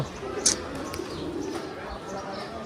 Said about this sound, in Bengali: এই প্লেস শুনেছি প্রচুর পরিমাণ কবুতর